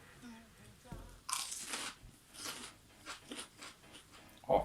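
A crunchy Sugar Rush Peach pepper is bitten into, giving a sharp crunch followed by several wet chewing crunches at close range, with brief voice sounds near the start and end.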